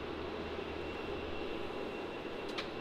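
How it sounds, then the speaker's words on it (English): A Qantas Boeing 737 jet arriving from Denpasar lands on runway 16 at Melbourne Airport, heard as a steady, broad engine roar holding at an even level throughout with no voices. "arriving on runway 16 now, we have flight QF46 International 737 coming from Denpasar"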